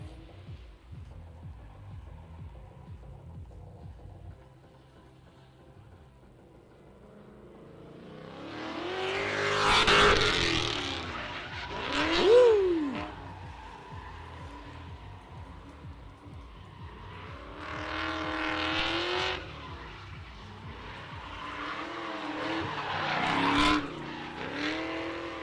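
A drift car at the Big Indian Drift Pit in Irving revs hard and screeches its tires, quiet engine drone at first, then several loud bursts of revving and squealing slides that swell and fade over time.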